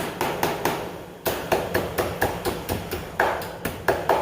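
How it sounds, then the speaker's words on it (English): Hammer striking wire to bend it over a corner while building a broiler chicken tractor, a steady series of sharp metallic taps roughly every third of a second, close and loud, with a short pause early on. "we're just going to take our hammer and hit a couple times to get the wire bent over"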